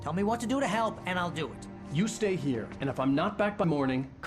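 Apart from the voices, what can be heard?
No everyday noise stands out behind the speech.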